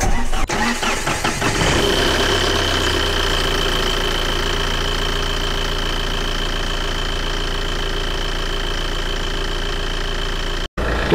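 A Tata Safari Storme SUV diesel engine cranks briefly, catches and settles into a steady, loud idle with a low rhythmic clatter, close by and without talk.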